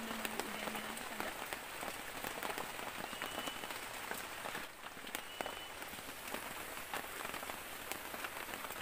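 Heavy rain falls in a forest at a solo camp, a constant hiss of drops pattering on surfaces close by, with scattered sharper splashes and no talking.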